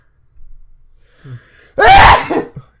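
A single sharp, loud sneeze, preceded by a brief quiet intake of breath, close up.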